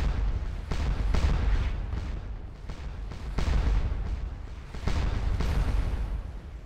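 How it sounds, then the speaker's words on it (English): Artillery guns firing in a Napoleonic-era Waterloo battle game, a steady rumbling barrage of deep booms and cannon blasts rolling continuously, loud and dense without any voices. "These guys are getting bombed. That's what those guns are shooting at."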